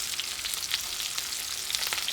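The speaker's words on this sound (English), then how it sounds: "We'll get a quick sear of that" Steak searing in a pan with butter spooned over the pieces, a steady close, loud sizzle and crackle with small pops running throughout, no voices.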